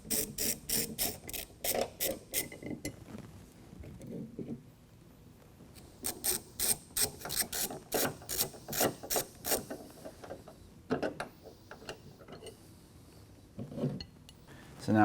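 A ratchet driving a T50 bit clicks in quick rapid bursts while removing a tailgate hinge on a 2022 Ford Bronco, close and loud, with pauses between runs and faint talk in places.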